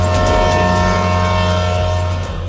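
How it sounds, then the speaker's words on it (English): A loud, sustained train horn blares over the deep rumble of an approaching train in a Kenyan slum, holding steady and close for the whole moment. "The train is coming right now."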